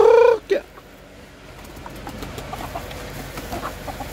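Chickens cluck and squawk during feeding, starting with a couple of loud close calls, then scattered softer clucks and pecking sounds over a low background.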